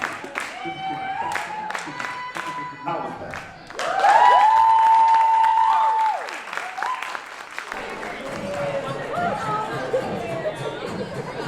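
Audience applause and cheering swell in a loud, crowded space, with clapping and chatter overlapping a sustained whistle-like tone partway through before the crowd noise settles into a lower murmur.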